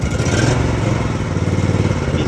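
Small Honda engine starting up and running on a test, a steady close, loud mechanical chug with clattering rattle throughout.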